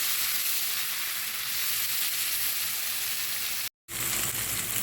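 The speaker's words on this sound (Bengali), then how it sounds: "টমেটো কুচিটা পেঁয়াজের সাথে আর কি ভুজে টমেটোটা নরম করে নিই" Chopped tomato frying with browned onions in a pan, a steady dense sizzle holding constant from start to end, broken only by a brief gap of silence near the end.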